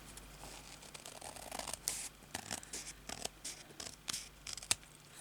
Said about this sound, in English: Looks like I'm going to have to use the scissors.